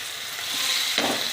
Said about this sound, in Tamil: இது தக்காளி நல்லா வதங்கட்டும்